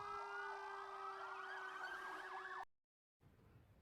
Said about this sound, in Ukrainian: Так, пожежна машина. Вона вже поспішає на допомогу.